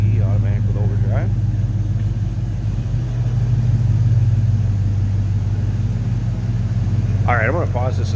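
A 1953 Chevrolet 3100 five-window pickup street rod with a 5.3 V8 and 4L60E overdrive automatic idles steadily with a deep, continuous near rumble, while someone talks briefly at the start and again near the end.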